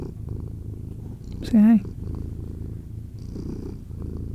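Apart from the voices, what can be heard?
cat purring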